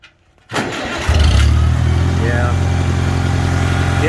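A 1948 Farmall Cub tractor engine cranks and catches with a sharp start, then settles into a steady, loud, close idle that runs on continuously.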